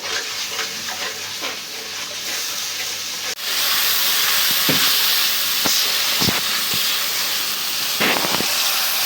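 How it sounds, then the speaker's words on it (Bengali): Ginger and garlic paste with spices frying in a hot pan for a taro (kochu) curry, a steady loud sizzle and hiss throughout that jumps louder partway, with occasional stirring scrapes and clicks; no talking. "পরিমাণ মতো আদা রসুন দিয়ে দিই যেহেতু কচু একটু বেশি করে আদা রসুন দিলাম এখন মশলাগুলা ভালো করে কষাই দিব"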